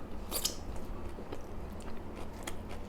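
Someone takes big bites of grilled red tilapia wrapped with vegetables, giving quiet, close, crisp crunches and soft chewing clicks in a brief, irregular series.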